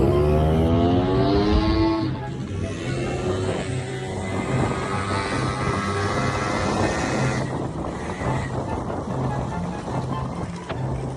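A Honda Dio scooter engine runs on a test ride after repair, revving with a rising whine at first, then holding a steady buzzing drone under wind noise, with a faint voice in the background.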